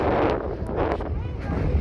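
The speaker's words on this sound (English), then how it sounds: "You guys probably can't hear a word I'm saying. That's wind." Gusty wind buffets a microphone high on Pikes Peak at about 13,000 feet, a steady loud low rumble with broadband roar filling the whole stretch, with a voice faintly under the noise.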